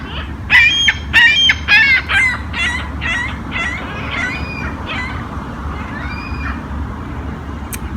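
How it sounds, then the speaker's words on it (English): Seagulls calling loudly by water where ducks and geese rest, a quick cluster of harsh squawks at the start followed by scattered fainter cries over a steady low rumble. "We also have some noisy seagulls."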